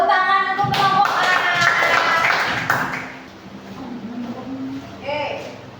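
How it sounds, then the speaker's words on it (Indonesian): Children clap for a group in a special-needs school classroom, a burst of scattered hand claps and taps up front with voices, fading into quieter classroom chatter. "tepuk tangan untuk kelompok A"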